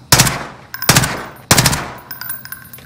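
Three heavy bursts of automatic gunfire from Call of Duty: Modern Warfare, loud and close, each sharp onset trailing off, with a fainter rattle of more distant shots after the third.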